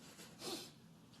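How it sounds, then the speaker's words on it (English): A single short sneeze, fairly faint, bursting out briefly against a quiet background. "I'm going to sneeze."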